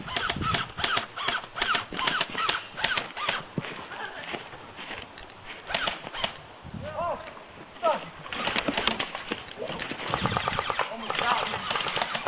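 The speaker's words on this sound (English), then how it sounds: "Lay down some cover fire" Airsoft guns fire cover fire during an outdoor airsoft war game, a dense run of rapid clicking and popping shots with overlapping bursts throughout, mixed with movement and occasional voices nearby.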